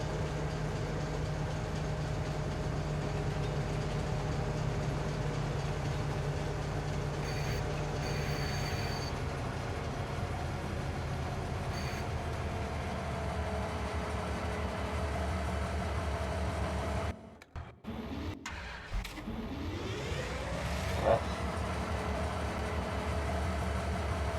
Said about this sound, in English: So let's drive the train in.